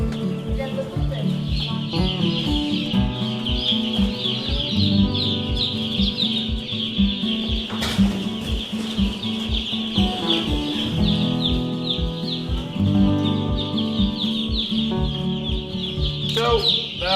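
Chickens clucking steadily and close as they are moved out of a brooder on a farm, a dense overlapping chorus of fowl calls with some background voices.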